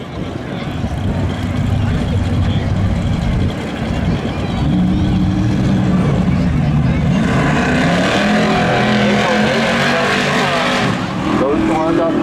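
Drag race cars launching and accelerating down the strip at a summer spectator drags event, engines roaring loud and close with a rising pitch, while an announcer calls the run over the noise.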